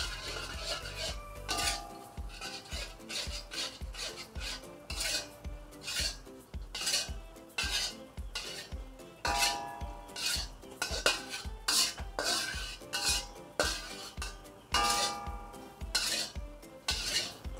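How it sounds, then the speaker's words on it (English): Rock sugar melting toward caramel in a pan, stirred with a utensil that scrapes and clinks against the metal in a steady, repeated rhythm, close and moderately quiet. "Takes time to melt this rock sugar until it caramelizes."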